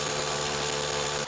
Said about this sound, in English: now we're up to the part where we're drilling our holes in our wheel wells